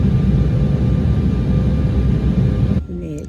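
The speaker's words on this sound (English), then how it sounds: "Just sitting on the plane." Cabin hum of a parked airliner after landing in Atlanta, a loud steady low engine and ventilation drone that drops away abruptly near the end.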